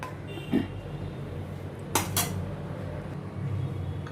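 A spoon clinks and scrapes against a pot as lotus stem curry is stirred after water goes in, two or three sharp metallic knocks over a low steady kitchen background, no talking.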